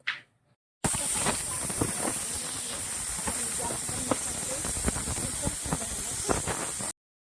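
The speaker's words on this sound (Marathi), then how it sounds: "मी कुकरच्या चार शिट्ट्या करून घेणार आहे" A pressure cooker of black chickpeas on a medium gas flame lets out one long, loud burst of hissing steam that starts abruptly, holds for several seconds and cuts off sharply.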